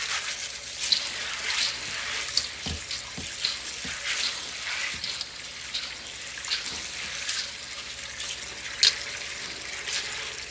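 Dried beans rubbed together while being washed in a basin of water: splashing and swishing with small irregular knocks and clicks, steady and close, no voices.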